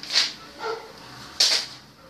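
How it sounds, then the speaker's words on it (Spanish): Dogs bark outside a window in two sharp bursts separated by a pause, moderately loud against a quiet room background. "Esos perros ya me están enojando bastante."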